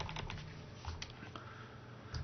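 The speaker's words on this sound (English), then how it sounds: "I'm having trouble typing." Quiet, rapid keystrokes rattle on a computer keyboard in an irregular burst of clicks, close and alone with no talk.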